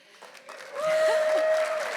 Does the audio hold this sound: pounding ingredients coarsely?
no